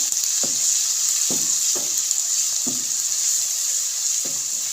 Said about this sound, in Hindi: ये डाल के हमने 1 मिनट से फ्राई करना है ताकि लहसुन की स्मेल ख़त्म हो जाए